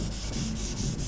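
Sandpaper rubbing back and forth over a lacquered painted surface during a paint-chip repair, a steady close scratchy hiss with faint periodic strokes, no voices.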